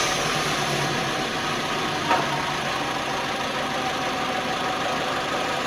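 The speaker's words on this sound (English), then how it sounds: "So, if we just start the vehicle up please." A car engine starts and runs at a steady idle throughout during cam and crank sensor testing, a continuous mid-pitched rumble with a brief bump near the middle.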